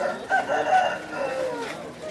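A rooster at a poultry market crows once in a drawn-out, wavering call lasting about two seconds, fairly close and loud over a murmur of background market noise.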